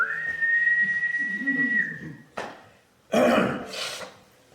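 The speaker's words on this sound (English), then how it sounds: "The ship's whistle drowns out my word." A ship's whistle sounds as a staged-reading effect, one long steady tone held for about two seconds, followed by bursts of breathy noise like coughing or throat clearing.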